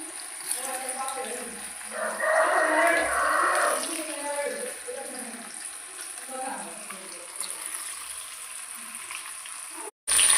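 Fish frying in a pan gives a soft, steady hiss and crackle, swelling for a few seconds early on and then easing, with a brief cut near the end.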